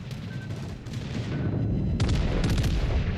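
Secondary guns aboard the French ship Picardie fire in a naval video game, a rapid series of dull, thudding shots that grows busier toward the end, under a steady background of game noise.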